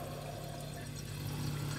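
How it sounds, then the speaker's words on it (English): Water poured into a glass of homemade bourbon to dilute it, a steady continuous trickle heard close up with no talking. "I'm going to just water this down and give it a taste."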